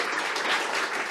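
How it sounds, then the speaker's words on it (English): Brief burst of audience applause after a panel discussion on feminism and queerness in religion, dense clapping filling the moment at steady strength. "Please give them a round of applause."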